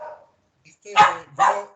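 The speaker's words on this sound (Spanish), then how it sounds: "el perro creo que también quiere decir algo, Rafa." A dog barks twice nearby in quick succession, loud and sharp, after a brief murmur at the start.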